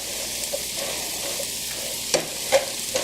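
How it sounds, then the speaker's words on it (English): Onions and mushrooms sautéing in a pan give a steady, close hiss of frying, punctuated near the end by a few sharper clinks and scrapes of stirring. "I'm going to saute these for a while"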